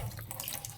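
Tap water runs steadily into an electric kettle, a brief continuous splashing rush close by.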